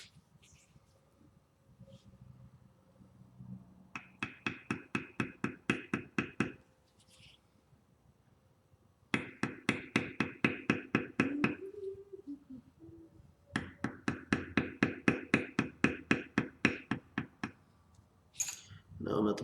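Mallet tapping a beveler tool on leather, rapid runs of sharp, evenly spaced clicks in three bursts separated by pauses, close, with brief talking in the gaps.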